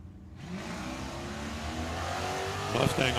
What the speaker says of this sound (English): Mustang off and running on the red